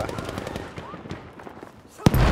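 Gunfire in the Battlefield V video game: a dense run of sharp shots over the first two seconds, followed by a louder close burst near the end.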